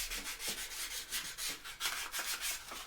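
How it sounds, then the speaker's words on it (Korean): Wood being sanded by hand with sandpaper while making a wooden toy train in a woodworking class: steady rhythmic back-and-forth rubbing strokes, close and clear, with no talking. "첫 번째 단계는 사포 가지고 매끈하게 한 다음에"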